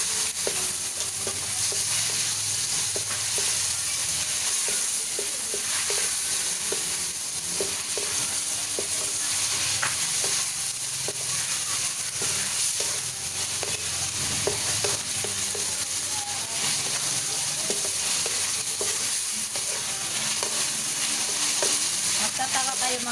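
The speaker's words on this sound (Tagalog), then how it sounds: "Nagpapansit" Pansit noodles fry in a hot pan with a steady, loud sizzle throughout, broken by repeated scraping and clattering strokes as they are stirred, and no voices.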